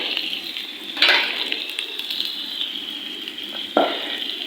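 Steady hiss of okra frying in a pan with pickling spices, with a couple of brief louder clatters, likely stirring, near and fairly loud, with no voices.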